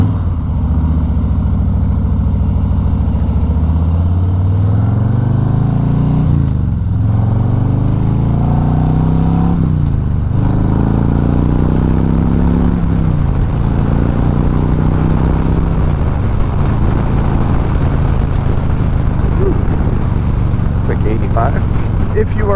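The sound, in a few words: 2021 Harley-Davidson Low Rider S motorcycle engine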